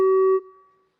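A single electronic competition buzzer sounds for a test: one clean, steady tone that holds for under half a second, then fades out with a short decaying tail, clear and close.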